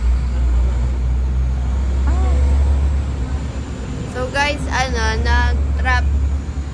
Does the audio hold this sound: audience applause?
no